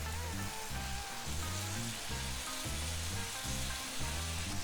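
Mushrooms and tomatoes fry in a pan, a steady close sizzle with rhythmic scraping or stirring pulses running throughout.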